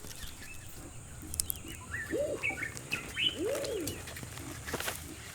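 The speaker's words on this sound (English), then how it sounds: "When the rock pigeons coo their late morning mating call, everything briefly goes quiet." Rock pigeons coo their late-morning mating call in a Kenyan woodland, a couple of soft rising-falling coos, moderately close, over quiet rustling and faint chirps of other birds.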